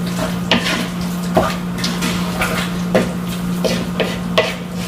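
Seasoning gets stirred into a beef liver pâté mixture in a pan, with a spoon scraping and knocking in repeated strokes about once a second over a low steady hum, no talking.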